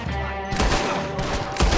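Gunfire crackles in a Red Dead Redemption 2 fight, with a few loud close shots separated by short gaps and some sharp bursts over a rumbling background.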